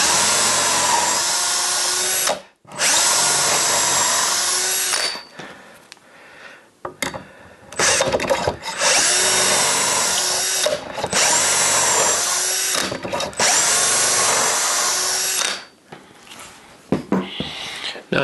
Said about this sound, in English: I have my doweling jig firmly attached, and I'm just going to, oh, and I've reset the depth for the drill.